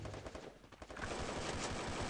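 Bursts of rapid automatic gunfire from the Free Fire battle royale video game, loud and continuous, with the fire thickening into a sustained stream in the second half.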